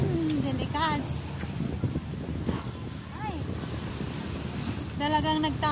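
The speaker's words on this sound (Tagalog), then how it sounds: "Malakas ang alon." Strong sea waves wash and surge steadily against the shore at Sembawang Park, a broad rushing wash under wind noise, with people talking and exclaiming over it.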